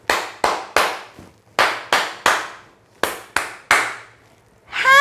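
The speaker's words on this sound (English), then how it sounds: "Let's clap with our hands." Children in a classroom clapping their hands together in short bursts of three to four sharp, fairly close claps with brief pauses between groups, a voice starting at the very end.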